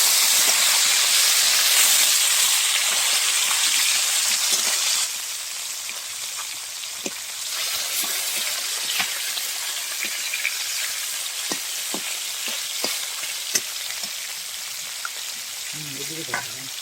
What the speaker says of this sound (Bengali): মাছগুলো এখন আমি উল্টিয়ে দেবো।